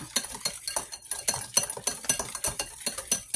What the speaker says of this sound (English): I'm going to whisk this together. Whisk it like this. Get it all whisked up.